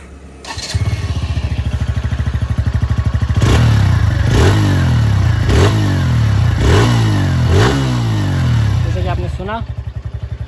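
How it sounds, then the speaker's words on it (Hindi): A 2022 TVS Radeon 110cc motorcycle starts and idles with a rapid thumping exhaust note, then gets revved in repeated rising blips before settling back to idle, loud and close. "तो अभी मैं आपको सुना देता हूँ इसका एग्जॉस्ट नोट।"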